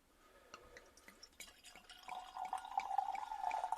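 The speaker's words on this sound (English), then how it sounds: "Let's pour it out." Cider, a still Beauty of Bath cidre nouveau from Ross on Wye, is poured into a glass, starting with a few soft drips and splashes, then building into a faint, steady trickling fill.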